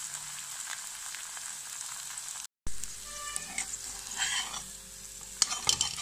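Finger millet and amaranth uthappam cooking on a hot pan, a steady soft sizzle with light scraping and stirring clatter, broken by a brief silence midway, then a fuller sizzle with small utensil knocks near the end.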